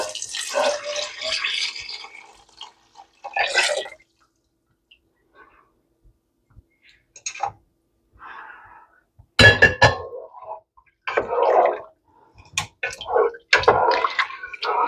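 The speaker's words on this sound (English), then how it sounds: "next I'm going to add my beef stock" Beef stock for French onion soup poured into a pot, with splashy liquid bursts, drips and clinks in separate spurts between silent gaps, close up.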